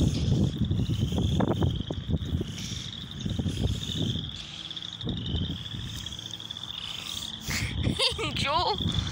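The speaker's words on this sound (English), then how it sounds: "Look, Angel, do you hear the frogs?" Frogs croak and trill outdoors at night, a steady chorus with insect-like chirring, under a person talking and a burst of louder rapid calls near the end.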